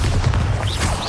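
A Bombarda explosion spell goes off in the Hogwarts Legacy video game, a loud, dense, sustained blast with rumbling low end and brief whooshing sweeps layered over it, all heard close without pause.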